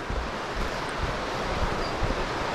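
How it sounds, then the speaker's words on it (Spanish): Small rapids on the Olivia river near Ushuaia rush in a steady, dense roar of flowing water, close and constant, with wind noise mixed in and no speech. "Ahí hay unos rápidos."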